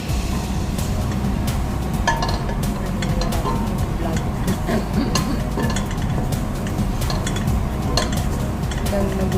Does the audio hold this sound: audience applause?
no